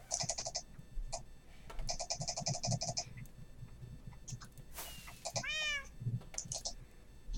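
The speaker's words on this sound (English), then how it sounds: "I'm just over here meowing." Minecraft cat meows repeat in several short bursts, loud and close, over game background noise, ending with a rising, warbling call.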